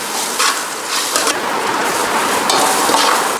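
Onions sautéing with ginger garlic paste in a pan for tomato rice, a steady broadband sizzle with a few scraping stirs of a utensil against the pan, close and fairly loud, no talking.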